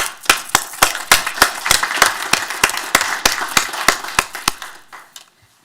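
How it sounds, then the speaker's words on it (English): Sparse applause from a small group at a city council meeting, distinct individual claps in an uneven rhythm that thins out and stops near the end. "Let's applaud."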